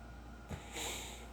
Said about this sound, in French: je renifle simplement parce que j'ai le nez bouché